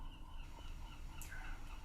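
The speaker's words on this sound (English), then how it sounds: "no, that's a bird calling." A bird calls faintly behind a low room rumble, a short gobbling cry rising briefly near the end.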